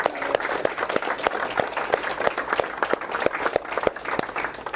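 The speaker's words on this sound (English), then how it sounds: "Let's give Judy a huge round of applause." An audience gives a lively round of applause, with close individual hand claps punctuating a steady crowd clapping throughout.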